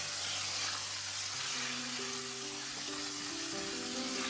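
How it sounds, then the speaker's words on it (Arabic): Chicken frying in a pan with spices while being stirred, a steady dense sizzle running throughout with faint tonal hum beneath, no voices. "الآن نضيف البهارات ونقلبه لين يتحمر بالتمام."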